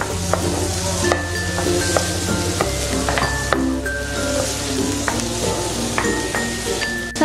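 Margarine sizzles steadily in a pan as an aromatic sauté is stirred, with scattered light scraping and tapping strokes over the continuous frying hiss, close and fairly loud, without speech.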